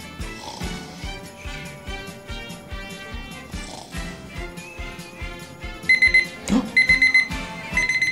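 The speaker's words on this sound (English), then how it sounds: "the alarm's going off" A dumbbell alarm clock rings in a rapid, steady electronic beeping pattern that grows louder and more insistent partway through, close and clear with no talking over it.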